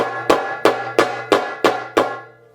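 Six sharp three-finger flicks on a darbuka, evenly spaced and ringing with a bright, decaying tone, played alone close up.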